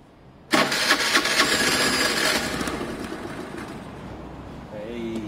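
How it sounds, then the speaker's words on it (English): A Piaggio Fly 125 scooter cranks on its electric starter and suddenly bursts into a loud, rough engine run, which eases to a steadier idle with a faint whine near the end. "You shouldn't hold the starter for more than 10 seconds at a time, otherwise it burns out."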